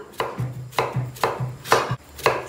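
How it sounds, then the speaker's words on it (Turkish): Onions being chopped with a knife on a cutting board while cooking chickpeas: five sharp, evenly spaced blade strikes, close and clear, with no talking. "İşimize soğanımızı doğrayarak başlayacağız."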